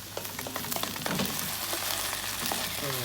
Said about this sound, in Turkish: Şimdi bunları güzelce karıştıralım.